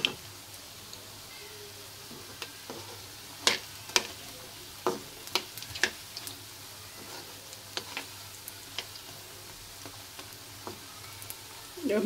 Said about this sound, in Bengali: সবগুলো সুন্দর করে ভেজে নিব।